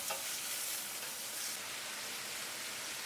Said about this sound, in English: add the lamb meat into the pot and fry everything till the meat is seared on all sides